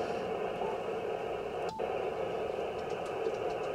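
A ham radio receiver connected to a Solarcon A99 CB antenna on the ham bands gives off a steady wash of band noise, a constant hiss with a faint hum. One tiny blip breaks it midway.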